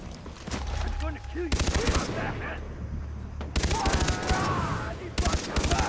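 Bursts of rapid automatic gunfire in the Far Cry 3 video game, several loud rattling volleys separated by short pauses, with a voice speaking faintly beneath.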